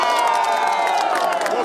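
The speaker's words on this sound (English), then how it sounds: "The happy faces, cheering and singing compelled the Malawi leader to stop and greet the crowd." A dense crowd cheers and sings steadily at the entrance of Kamuzu Palace in Malawi as the president arrives, a loud continuous wash of voices and whoops with no pauses.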